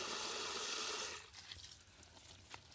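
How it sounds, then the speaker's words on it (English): Water pours from a tube into a bucket with a steady broadband rush that suddenly drops off about a second in, leaving a softer, uneven trickle and splashing. "So, when I fill this same bucket of water"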